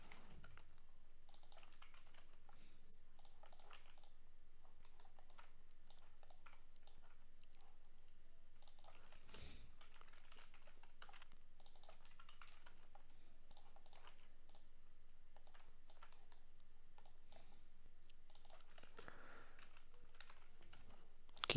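Steady computer keyboard typing runs throughout, soft clustered key clicks with brief pauses, close but quiet, no voices.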